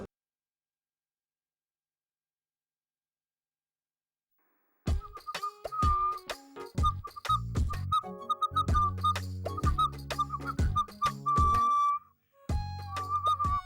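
A person whistles in a TV serial scene: after about five seconds of silence, a bright, wavering tune starts, broken by short pauses and mixed with clinking sounds.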